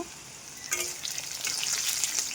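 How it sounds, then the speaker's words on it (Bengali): Vegetables such as pointed gourd, okra, green banana and spiny gourd fry in hot oil in a home kitchen, a quiet hiss that rises into a fuller sizzle after a brief stir and carries on steadily. "তার জন্য 5 রকম ভাজা ভাজছি"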